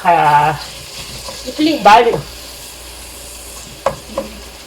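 Ground pork hits a hot frying pan for miswa bola-bola and is stirred, giving a burst of sizzling and scraping near the middle after a short voiced sound at the start, then brief clatters of the utensil.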